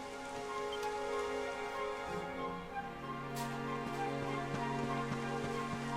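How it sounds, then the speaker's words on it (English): Steady rain pours in the video game Dragon Quest XI, a continuous soft hiss of falling drops with a few faint distant rumbles, heard alone without talk. "It would have to go and start raining, wouldn't it?"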